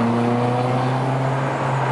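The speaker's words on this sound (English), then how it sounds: "Sick car, man! He smiles. And then he speeds off." A sports car engine hums steadily up close, a loud sustained motor drone with strong low tones, heard on its own as it pulls away.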